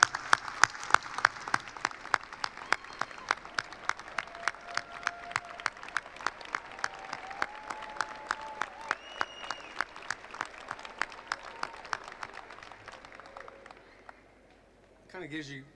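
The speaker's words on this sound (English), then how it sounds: "give you a big round of applause because y'all were part of this" A graduation ceremony audience claps in rhythmic unison, a long run of steady synchronized beats from a crowd with a few cheers and whistles, fading into a brief burst of noise at the end.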